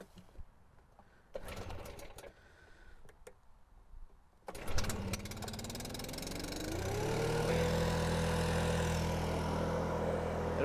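BR800X backpack leaf blower at home: clicks and handling, then the engine starts and revs up into a loud steady drone with rising pitch that settles into a sustained roar close by.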